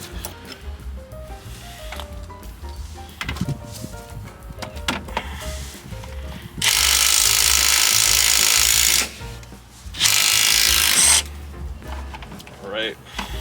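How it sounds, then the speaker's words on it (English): Tools work on the strut bolts of a Toyota Celica ZZT231, with metallic clicks and clanks followed by two long, loud, close bursts of a power tool separated by a brief pause. "next let's try to loosen the strut bolts."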